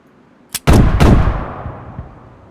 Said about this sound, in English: you heard the 2 explosions from the 2 grenades that were in there